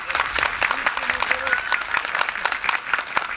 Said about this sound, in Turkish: Kadir Başkanıma burada bir büyük alkış isterim.